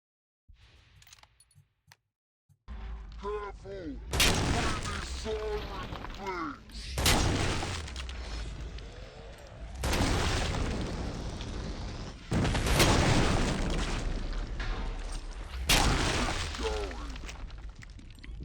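Killing Floor 2 gameplay with headshot effect mods: a series of loud gunshot blasts and impact crashes recurring every few seconds over dense game noise, with a voice talking faintly underneath.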